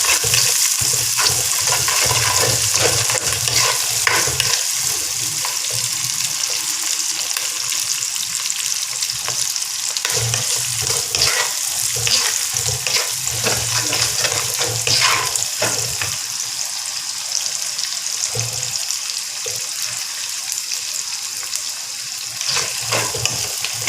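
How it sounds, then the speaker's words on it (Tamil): Green chillies sizzle and crackle in hot oil in a pan for stingray fish curry, with a steady, close frying hiss and occasional stirring throughout. "பச்சை மிளகாய் நான் போடுறேன்."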